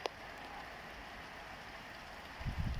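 Rain falls steadily outside a back door, a soft, even hiss with faint patter. Near the end a few low thumps and drips rise briefly, and no one speaks.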